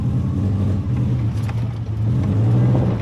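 A lifted Subaru Forester's engine revs off road, a mid-pitched drone rising and falling as the throttle works, close and loud with a brief dip before climbing again.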